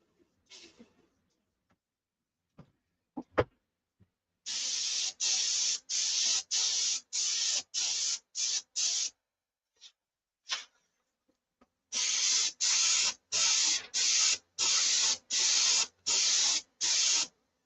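Spray gun laying clear coat on the bottom of a Viper, heard as two runs of evenly spaced, loud hissing bursts, about eight each, separated by a few faint clicks and knocks.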